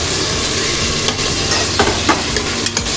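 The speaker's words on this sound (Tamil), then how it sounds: "சேர்த்து நல்லா கிண்டி விட்டுருவோம்." Chopped tomatoes are stirred into a prawn gravy masala frying in a pan, giving a steady close sizzle broken by a few scraping clinks of the spoon, with no talking.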